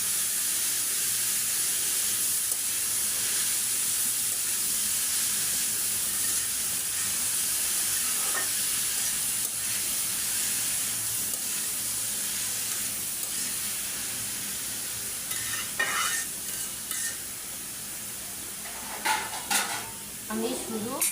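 Sliced papaya fries in a covered pan, giving a constant soft sizzle and hiss; toward the end come a few louder scraping stirs and utensil knocks.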